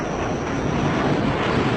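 A JF-17 Thunder fighter jet roars at an air show in Dubai, a loud, broad, steady rush of engine noise heard from outdoors with some wind buffeting, over a brief stretch with no talk.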